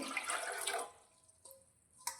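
Water pours from a bowl into a cooking pot for boiling rice-flour dough for rice papad. A steady splashing rush lasts just under a second, then a few faint drips and small splashes follow.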